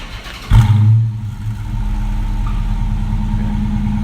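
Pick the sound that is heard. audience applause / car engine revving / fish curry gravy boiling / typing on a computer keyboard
car engine revving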